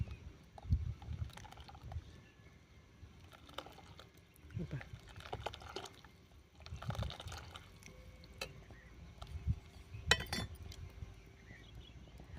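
A raw-mango kadhi stirred in a pot, with soft liquid sloshing and occasional light clinks of the spoon against the vessel, repeating in loose strokes, close and quiet.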